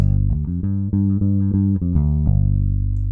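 Harpy Instruments Flamingo electric bass in humbucker mode plays a punchy riff of repeated low notes with a firm attack, close and loud, ending on a sustained ringing note.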